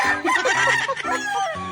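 A rooster crows nearby, one loud, wavering call that rises and falls over a couple of seconds.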